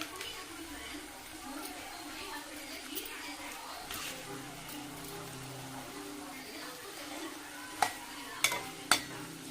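Potato and capsicum masala sizzling in a pan while being stirred, a steady low crackle with soft scraping, a few sharp spoon knocks near the end.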